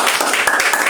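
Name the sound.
church congregation applause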